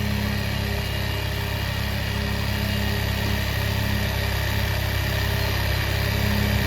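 A small engine idles steadily and close up while its carburettor air screw is adjusted, a constant vibrating hum with no talk.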